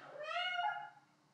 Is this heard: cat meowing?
yes